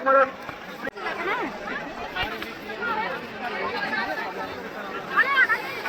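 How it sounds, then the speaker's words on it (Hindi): A dense crowd at the Mauni Amavasya bathing fair at Birhar Ghat on the Saryu river fills the air with steady overlapping chatter and babble, many voices near and far. "इधर देखिए और ज़्यादा भीड़ है"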